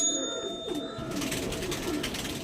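Black Diamond pigeons coo in a loft, a low soft burbling repeated through the moment, fairly close, with faint tonal hum and background noise.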